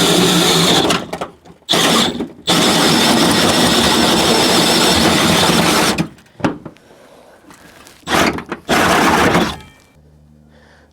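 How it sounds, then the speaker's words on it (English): A 4-inch hole saw grinds through the metal bed of a Ford F-350 in loud, harsh bursts, cutting in several runs separated by short pauses, the last stretch quieter before stopping. "Now we're gonna go ahead with the 4-inch hole saw."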